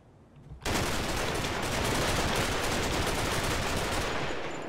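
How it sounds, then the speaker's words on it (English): An MP44 assault rifle fires a sustained burst after a brief quiet lead-in, dense, continuous rapid gunfire that stays loud and close for about four seconds before easing slightly at the end. "letting rip with the MP44 there"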